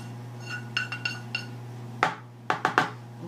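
Sautéed celery and onions scraped from a pan into a rice mixture: a few light clinks first, then sharper metallic taps and knocks of a utensil against cookware, close and isolated, with no talk.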